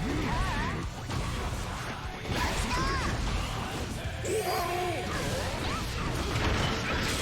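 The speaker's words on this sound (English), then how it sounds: "That's gonna break the glass." Glass shattering in a fighting video game, a crash and clatter that sits among busy game effects and mechanical clanks, with excited commentary running over it.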